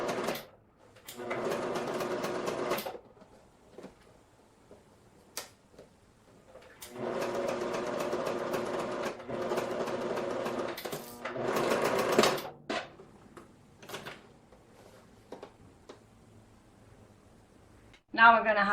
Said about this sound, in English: We're going to go a tiny little bit higher, and we're going to sew exactly next to it.